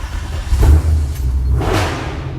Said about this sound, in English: This thing has the best exhaust ever.